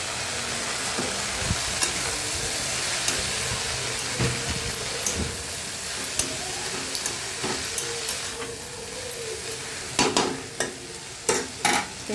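Water spinach (kalmi shak) stir-frying with salt and turmeric: a strong, continuous sizzle and hiss close by, with scraping stirs and sharp knocks of the spatula growing more frequent toward the end.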